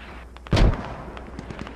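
A mortar round lands on an enemy position in the military shooter game Squad with one sharp, heavy boom. Softer distant pops and rumbling follow in the background.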